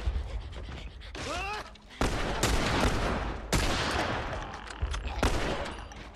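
Gunfire in The Last of Us during a deer hunt: several sharp, loud broadband shots spaced a second or so apart, with a rising whistle-like sound between them and someone talking over the action.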